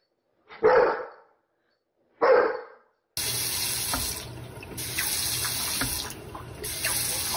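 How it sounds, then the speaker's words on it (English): A household water tap is turned on and off, producing a steady rush of running water that shifts and pauses as the flow changes. Two short, sharp bark-like bursts sound first against silence. "this is a fly turning my water off and on"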